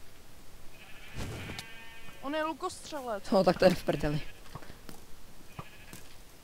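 Sheep in a video game give a few wavering bleats in the middle of the stretch, close and fairly clear, while players talk over the game sounds before and after.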